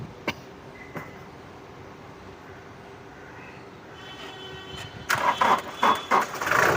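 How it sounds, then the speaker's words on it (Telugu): A 2018 Toyota Innova Crysta Z automatic starts with a single crank, the faint idle stretch broken by a few clicks before the engine catches and runs with louder bursts near the end. "సింగల్ సెల్ఫ్ అయితే బండి అయితే స్టార్ట్ అవుతుంది"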